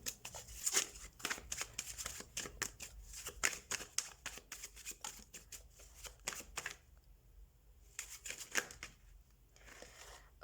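Tarot cards are shuffled by hand in a close, steady run of papery riffles and slides, with a brief lull before a final flurry of shuffling.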